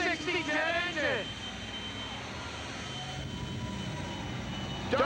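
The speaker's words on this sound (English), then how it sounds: "Not only does it squirt fire out of the tailpipe, but also out of the smokestack on the top of that powerful J60 jet engine." A drag racing jet car's J60 jet engine shoots fire at a 1987 drag strip event, a sustained, loud roaring rush that continues steadily while someone talks over it.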